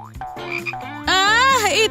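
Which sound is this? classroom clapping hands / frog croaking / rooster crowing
frog croaking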